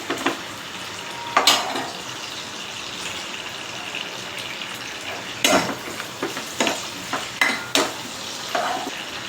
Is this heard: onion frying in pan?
yes